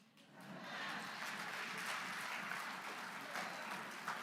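An audience applauds after a mainstage speech at a progressive political summit, a soft, steady wash of clapping that swells in and holds for a few seconds.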